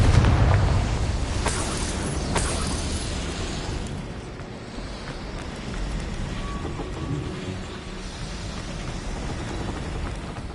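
A Confringo spell explosion in Hogwarts Legacy bursts loudly at the start, then a rumbling, crackling debris wash lingers and fades into a steady noisy roar for several seconds.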